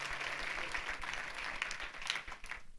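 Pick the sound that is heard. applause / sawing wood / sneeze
applause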